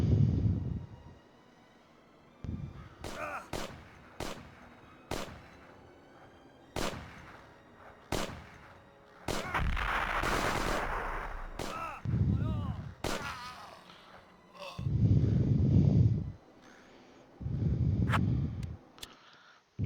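Gunfire and explosive tank blasts in a snowy forest combat video game, sharp repeated shots and heavy low booms spread irregularly across the stretch, with bursts of rumbling impact between them.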